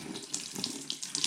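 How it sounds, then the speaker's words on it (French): Tap water runs steadily from a faucet into a sink on an arid island in the Gulf of Corinth, a close, continuous splashing hiss with slight surges, no talking. "Et je tourne sur le robinet."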